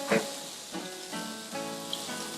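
Pork slice rolls with squid paste, made from pork belly, fry in a pan with a little oil and water, giving a soft continuous sizzle with faint crackles and small pops throughout.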